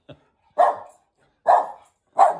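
Elizabeth, a pet dog, lets out a faint short yip followed by three sharp, evenly spaced barks at close range, with silence in between and no talking.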